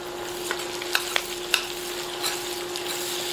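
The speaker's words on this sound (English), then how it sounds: "Make sure that you scrape the fond off the bottom of the pan" Scraping the browned fond off the bottom of a sizzling pan of sausage and onions, with olives just added: a steady frying hiss broken by several sharp scrapes and clicks of a utensil against the metal.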